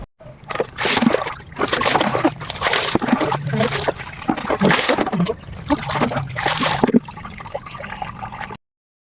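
Someone bathes in a green river, splashing and sloshing the water in repeated loud, close bursts with brief gaps, for about eight seconds.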